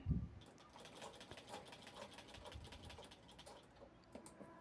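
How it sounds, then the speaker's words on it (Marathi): A sewing machine stitches through a fabric piece backed with carry-bag material, a steady fast mechanical whirr running continuously with a faint thump at the start and no talking. "इथं मी थोडेसे कट मारून शिलाई घेणार आहे आतून परत एकदा"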